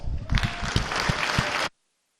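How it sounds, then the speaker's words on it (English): Chamber applause for the Chiefs in the Missouri House of Representatives, a dense burst of clapping from many hands with some heavier near claps, cut off abruptly after under two seconds. "I recommend that we give the Chiefs one more round of applause."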